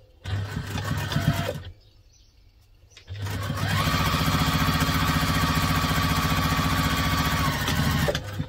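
A sewing machine stitches a sling bag in two runs: a short burst of about two seconds, a pause of roughly a second, then a longer, steady whirring stretch of around five seconds. The sound is close and loud, with no talking over it.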